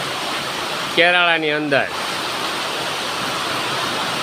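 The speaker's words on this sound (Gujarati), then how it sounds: "ચાલુ જ છે વરસાદ." Heavy monsoon rain pours over Kerala village in Savarkundla taluka as a dense, steady roar. Someone speaks briefly over the downpour.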